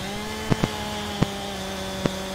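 A chainsaw cuts a small tree in the Farming Simulator video game, giving a steady, moderately loud engine buzz with a few sharp clicks scattered over it, and no talking.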